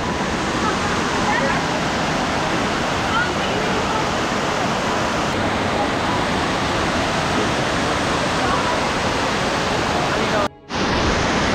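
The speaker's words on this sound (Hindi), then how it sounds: "दोस्तों मैं एक वाटरफॉल के पास पहुंच चुका हूं" Steady, loud broadband roar of a waterfall at Tamhini Ghat, a continuous rushing wash of falling water filling the whole clip, close and unbroken apart from a brief dropout near the end.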